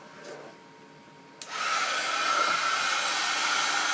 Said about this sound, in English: I'm going to heat emboss this with my heat gun